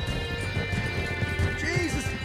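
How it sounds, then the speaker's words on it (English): Horse hooves clip-clopping in Red Dead Redemption 2, a steady near gait with voices talking over it. "This horse is freaking huge."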